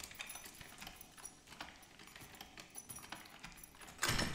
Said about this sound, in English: Do I hear footsteps?